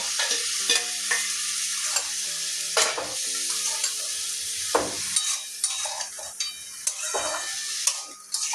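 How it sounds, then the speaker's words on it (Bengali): Pumpkin and yardlong beans sautéing in a pan, a steady sizzle broken by repeated scraping stirs of a spatula, close and fairly loud with no talk. "ভালো করে আবার কষিয়ে নেব।"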